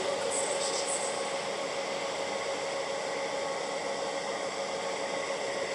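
An A-class model train circles the track with a microphone riding on top, giving a steady, close, rushing rumble with a constant tonal whine throughout.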